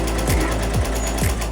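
A sewing machine stitches a fabric bowl cover, a loud, close, steady mechanical whir with a fast rhythmic needle chatter running unbroken throughout, with no talk.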